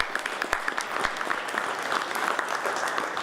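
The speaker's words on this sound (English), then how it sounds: "I want to give my good friend Bill Talbert another round of" Audience applause at a business luncheon in North Miami, a steady burst of clapping from a sizable crowd filling the room for a few seconds.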